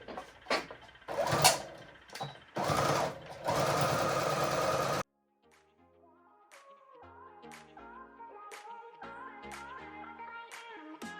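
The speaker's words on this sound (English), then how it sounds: "And this is my brother's sewing machine too." A home sewing machine stitches an embroidered baby blanket, running in loud bursts with short pauses, then quieter intermittent mechanical clicks and tones after it stops.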